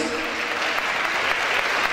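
Steady applause from a wedding crowd, joined in unison, dense and continuous throughout with some voices mixed in.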